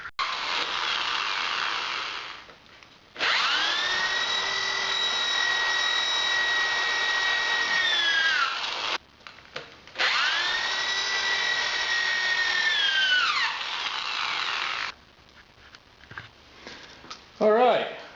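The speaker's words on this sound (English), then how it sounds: "It only took about half hour to drill the whole track out." A power drill bores stud holes in a snow track, running in two long sustained whines of several seconds each, with short stops and handling noise between them.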